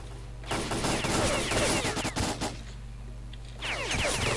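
Rapid gunfire bursts from S.T.A.L.K.E.R. Call of Pripyat, loud and dense, with overlapping shots and rattling volleys through most of the stretch, a short lull near the end, then another burst.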